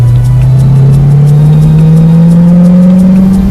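A convertible's exhaust drones loudly and continuously with the top down, its note slowly climbing in pitch as the car speeds up, with wind rushing past throughout.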